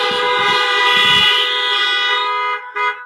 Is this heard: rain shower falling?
no